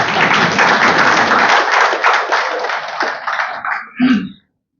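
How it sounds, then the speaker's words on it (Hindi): An audience at a talk on the Indian constitution claps loudly for several seconds. The applause thins out and ends with a few final claps. "ताली बजाइए"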